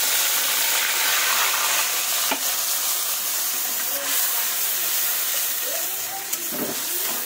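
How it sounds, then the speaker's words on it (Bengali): Prepared spice paste hits a hot pan with a loud, continuous hissing sizzle that lasts throughout, broken by a few sharp clicks of utensils near the end and no talking. "এবার যে মশলাটা করে রেখেছিলাম সেই মশলাটা আমি দিয়ে দেবো।"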